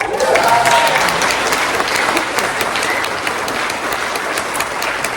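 Audience applause fills the room at a cannabis awards show in Hawaii, a thick, sustained burst of clapping that starts strong and eases slightly while continuing to the end.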